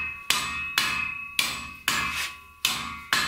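A hammer strikes a machete blade being forged from a semi truck leaf spring, six sharp metallic blows at an even, unhurried pace, each ringing briefly before the next, close and loud with no talking.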